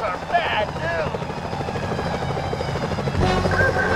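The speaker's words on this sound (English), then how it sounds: "Those security choppers are bad" Security helicopters in the video game Sly Cooper: Thieves in Time, a steady loud rotor drone and engine hum throughout, with game music and effects layered over it and a swell near the end.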